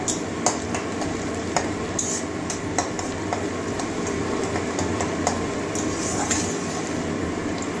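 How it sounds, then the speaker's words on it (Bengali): Continuous sizzling of onions frying, punctuated by occasional clinks and scrapes of a spatula against the pan. "পেঁয়াজটা আমার ভাজা হয়ে গেছে, খুব বেশিও ভাজবো না"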